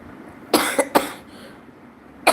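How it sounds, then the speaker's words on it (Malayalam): Several loud, close coughs from a person who has a cough after a fever, two quick coughs in a row, then a third, and another at the very end, with no speech in between. "അതുകൊണ്ടാണ് ഇടയ്ക്ക് ഇങ്ങനെ ചുമച്ചുകൊണ്ടിരിക്കുന്നത്"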